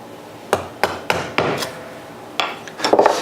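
Mallet strikes on a chisel while chopping a mortise in wood: a string of sharp, close knocks spaced irregularly, each with a short woody ring, ending in a quicker cluster of blows.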